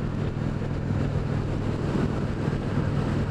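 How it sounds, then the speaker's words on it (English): Wind buffeting a rider on an Indian Springfield Dark Horse motorcycle at speed, heard as a loud, steady roar of broadband rushing noise with a low engine drone beneath and no talk. "I'll have the wind coming directly from my left in a moment"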